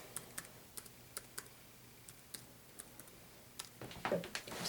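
Someone types on a computer keyboard, a sparse run of light, separate key clicks that quickens into a brief flurry near the end, close but quiet, with no voices.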